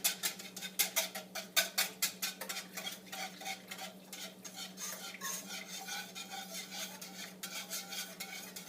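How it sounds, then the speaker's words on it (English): A spoon stirs mac and cheese in a pot on the stove until the sauce thickens, with steady scraping strokes repeating close by. A faint sizzle and a low hum sit underneath, and no one speaks. "You want to mix it up until it thickens."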